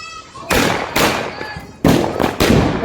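Close, loud sky rocket fireworks whoosh and burst during Diwali in four sharp rushes of sound, two close together, then two more after a short pause.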